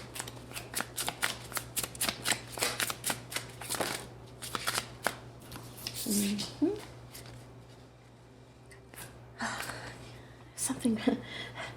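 Tarot cards being shuffled in repeated riffling bursts with brief pauses, close up, with soft voices murmuring in between.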